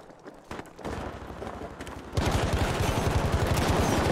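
A Tommy Gun firing in Battlefield V, with rapid automatic bursts of sharp, evenly spaced shots that grow louder and denser after a brief lighter opening, amid other battlefield gunfire.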